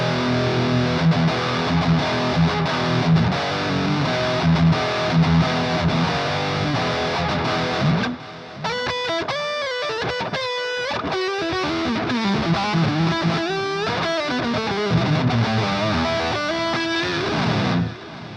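Distorted electric guitar through an amp simulator plugin, playing alone, loud and continuous, with a brief drop near the middle before a busier run of fast notes with a washy, effected tone.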